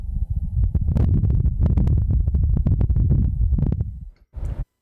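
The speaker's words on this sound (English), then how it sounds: "This is the sound of wind on Mars." Wind on Mars picked up by a rover microphone, a low rumbling buffeting that pulses and gusts unevenly, then thins out and breaks off near the end.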